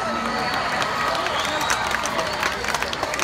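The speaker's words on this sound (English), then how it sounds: "let's give them a big round of applause." A festival crowd at the 2017 Honeybee Festival in LaFayette claps and cheers in a steady, dense wash of applause, with a voice faintly over it.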